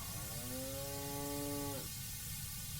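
A single long, low cow moo in Train Sim Classic with clear harmonic tone, lasting under two seconds over steady background hiss, then quiet noise.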